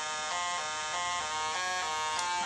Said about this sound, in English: And you hear the alarm sound,